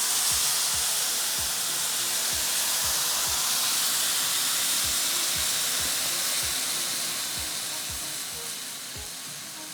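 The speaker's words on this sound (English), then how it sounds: "we're going in with a couple of cups of stock and we want to reduce that down by half" Stock poured into a hot pan to reduce, a steady broad hiss of sizzling and steaming that stays loud and continuous, easing slightly toward the end, with faint rhythmic ticking underneath.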